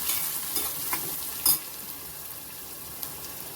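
A hot oil tempering with kasuri methi and Kashmiri red chili powder crackles with a steady, close sizzle, broken by a few scraping stirs and one brief louder knock.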